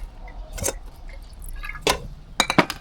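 Fish sauce poured into minced duck larb, a spicy Lao-Thai salad, making a few short liquid splashes and drips with faint glassy clinks, spaced over a few seconds with quiet gaps between.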